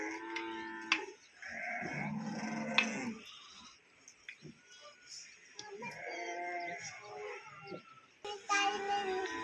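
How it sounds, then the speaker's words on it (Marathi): A flock of sheep bleating and calling repeatedly, one after another, with shuffling and rustling between the cries; no talking. "मेंढ्या चालल्या"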